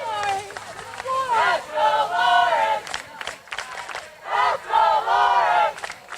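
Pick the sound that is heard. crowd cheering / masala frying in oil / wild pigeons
crowd cheering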